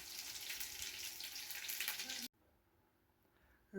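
Meat cutlets fry in a pan with a steady, soft sizzle and crackle close by, which stops abruptly partway through, leaving near quiet before a sudden clatter.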